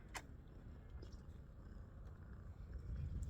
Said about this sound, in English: You're purring so loud, huh?